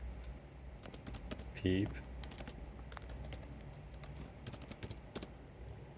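Keys tapped on a computer keyboard while a terminal command is entered during a Python install on Ubuntu 20.04, a scattered run of light, quick clicks close by, with a brief spoken word cutting in.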